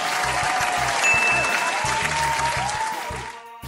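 A studio audience bursts into steady applause and cheering, dense clapping filling the space before tapering off near the end.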